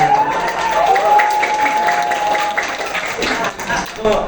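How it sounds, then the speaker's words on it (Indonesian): Students at a classroom career guidance session clap on request, moderate scattered clapping mixed with voices and a sustained tonal sound, fairly close and loud throughout. "Tepuk tangan."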